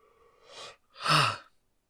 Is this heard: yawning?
yes